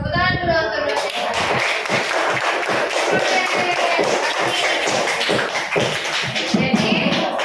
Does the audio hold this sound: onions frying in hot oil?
no